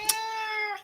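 An elderly cat gives a single drawn-out meow, close and clear, holding steady for nearly a second before tapering off.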